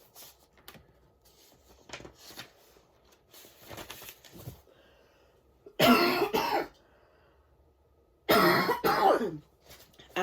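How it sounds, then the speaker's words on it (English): Two heavy, harsh coughing fits, each lasting about a second, loud and close to the microphone, separated by quieter rustling and faint breathing in an otherwise still room. "After I cough my lungs out,"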